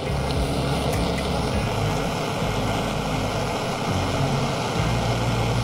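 A butane torch flame heats a battery cable lug at close range, giving a steady, loud roaring hiss that runs unbroken from start to finish.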